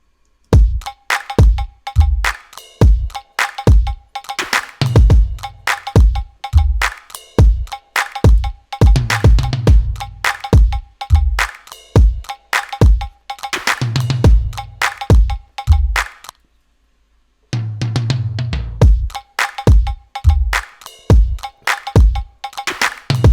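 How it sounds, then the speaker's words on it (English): A full mixed drum kit played loud and punchy, with IK Multimedia plugin processing, compressed toms and reverb, steady hard-hit beats throughout, a brief dropout near the end before the groove resumes. "these drums popping off"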